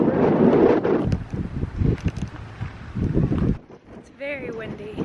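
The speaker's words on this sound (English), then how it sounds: "It's very windy." Gusty wind buffets the microphone in low rumbling bursts while people talk close by.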